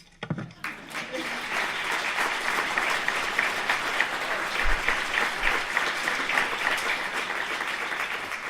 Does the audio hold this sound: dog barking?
no